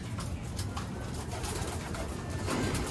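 Soft, low cooing of pigeons in an enclosed space, several birds calling over a constant background hum.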